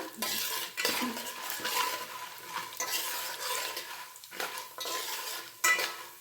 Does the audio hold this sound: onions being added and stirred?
yes